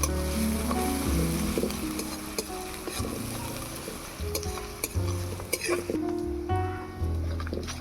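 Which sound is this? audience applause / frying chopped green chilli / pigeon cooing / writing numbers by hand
frying chopped green chilli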